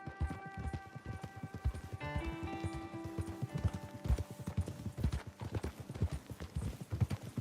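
Horse hooves gallop in the video game Red Dead Redemption 2, a rapid, steady clip-clop of hoofbeats close by with a short whinny partway through, fairly quiet overall.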